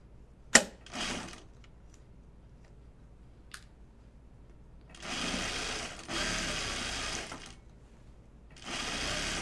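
A sewing machine stitches along the strap of an apron dress in several short bursts, a loud whirring hum starting and stopping, with quiet gaps and a few light clicks between runs.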